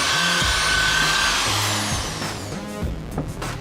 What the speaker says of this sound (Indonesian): Lanjut kita bor.